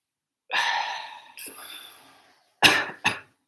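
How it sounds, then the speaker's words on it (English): A person doing breathing exercises in Kyiv, Ukraine coughs close by: one long rough cough, then a shorter one, followed by two sharp quick coughs, with quiet gaps in between. "If there is coughing, it means that you have taken too much air."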